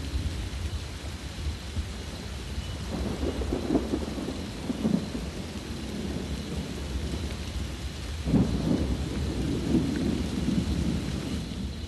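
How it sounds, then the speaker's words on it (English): Steady heavy rain pours down in a continuous roar, with low rumbles of thunder swelling twice in the background. "they cannot hear over the roar of its downpour"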